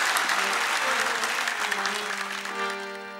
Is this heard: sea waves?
no